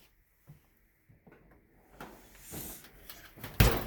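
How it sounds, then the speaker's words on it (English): An oven door is eased shut after a cheesecake comes out to cool: a few soft knocks and shuffles, then one firmer thud near the end, fairly quiet and with no talking. "My trusty assistant is going to carefully close the oven."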